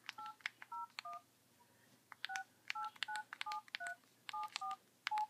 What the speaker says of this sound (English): Let's just make a phone call here.